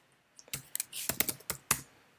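Quick clicks of fingers typing on a computer keyboard, about a dozen sharp close keystrokes in an uneven rhythm, alone in a quiet room.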